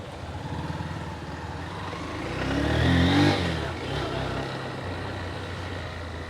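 A motorbike engine rumbles steadily, then revs up and swells around the middle before settling back to a steady drone during a test ride.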